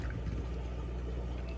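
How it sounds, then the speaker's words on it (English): Liquid pours from a small cap into the water of a fish tank, a short, soft, continuous trickle and splash close by with a low background hum and no voices. "Pour that in there."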